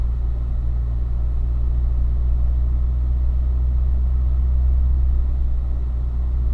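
Chevrolet Corvette C7 Stingray cars rolling at a track event at Ron Fellows, a steady deep engine rumble and drone held at constant level throughout with no talk.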